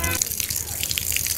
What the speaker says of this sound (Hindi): कहीं पानी गिरने का आवाज आ रहा है